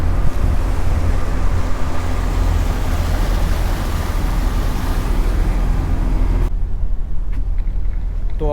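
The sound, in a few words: tour boat ride on the lake in Lugano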